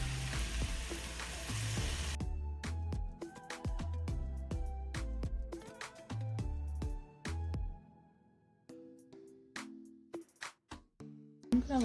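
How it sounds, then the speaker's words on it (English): Peppers hit a hot, uncovered pan and sizzle loudly for a couple of seconds, followed by clinks and scrapes of stirring and utensil taps against the pan. "I'm gonna let this saute for about 2 minutes with the cover off"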